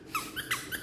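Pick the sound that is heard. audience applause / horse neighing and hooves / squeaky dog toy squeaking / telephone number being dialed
squeaky dog toy squeaking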